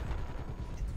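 Rumbling low-end blasts from a bomb going off in the video game Army of Two, a dense, continuous roar of booming bursts that stays loud for the whole moment with no clear talk over it.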